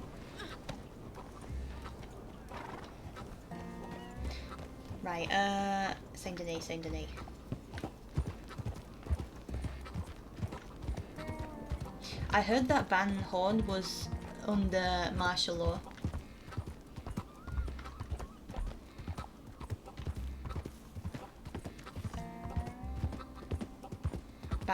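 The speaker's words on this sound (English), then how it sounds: "Get on the horse." Horse hooves clip-clop steadily in Red Dead Redemption 2, with occasional whinnies, while someone talks over the trotting throughout.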